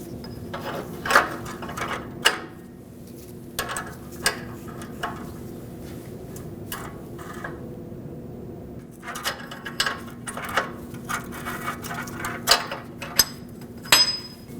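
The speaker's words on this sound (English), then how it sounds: "Let's grab an O2 sensor socket, break this free, and remove the sensor." Ratchet and socket clicking while breaking free a downstream oxygen sensor on a 2009-2015 Honda Pilot, short bursts of close, crisp ticks with pauses between, over a faint steady hum.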